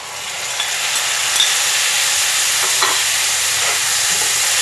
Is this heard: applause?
no